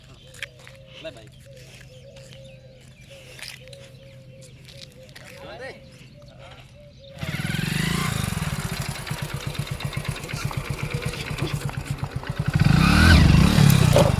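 A motorcycle engine starts partway through, thudding in a rapid, steady pulse that grows louder and revs up near the end, following a quieter stretch of people talking with birds chirping.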